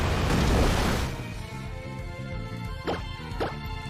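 A Muddy Water attack in a Pokemon game opens with a loud rushing splash that fades, followed by a few sharp hits over looping game music.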